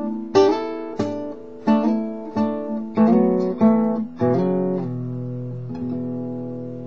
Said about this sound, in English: So that's the sound of the shape of the fourth interval, the perfect fourth.